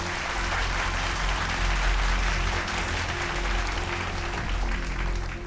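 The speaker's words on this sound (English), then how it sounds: "please give a round of applause for Timothy Tahura." Singing-contest audience on the Vocal Fusion top 11 show applauds a contestant, a steady, dense roar of clapping over a constant low hum, holding evenly throughout.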